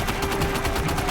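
Rapid automatic gunfire from a weapon in Death Stranding 2: On the Beach rattles in a steady, fast stream of close, loud shots with no pauses across the short burst.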